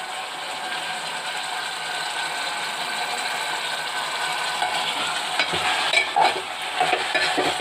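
Mutton curry frying in a pan gives a steady, close hiss and crackle with scraping stirring strokes throughout, growing a little busier near the end, with no voices.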